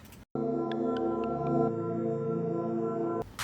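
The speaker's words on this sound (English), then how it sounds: "I believe I reversed it, stretched it out a little bit" A sustained, smeared melodic tone swells and holds with a reversed, time-stretched quality, a few faint bell-like blips near the start, ending abruptly.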